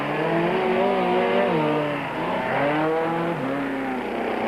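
Touring race cars, including a Ford, run flat out downhill on a circuit, engines screaming loud and close with wavering pitch that rises and falls as they jostle, a steady continuous roar throughout with no voices.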